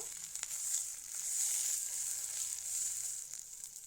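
Ash gourd peel paste frying in a pan while being stirred, a soft continuous sizzle with faint scraping of the spoon, fairly quiet and steady throughout.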